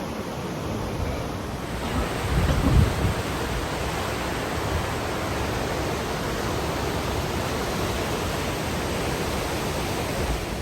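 Waterfall in Pérez Casares National Park, Chile, a steady loud broadband roar of falling water that continues without a break, with a brief louder surge near the start.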